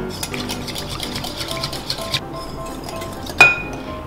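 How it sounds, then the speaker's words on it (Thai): A whisk clinks steadily against a bowl as egg yolks are beaten while syrup is drizzled in, light rapid metallic taps ending in one louder clank, with no talking. "ตีไข่แดงก่อนนะให้แตกหมดเลยแล้วก็ค่อยๆใส่นะคะ"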